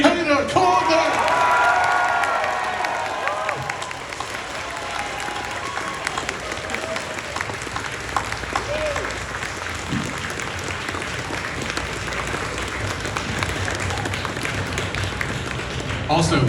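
An audience at a live Metal Gear Solid Q&A panel at a gaming convention applauds and cheers, dense sustained clapping with whoops for several seconds, while a host speaks over it.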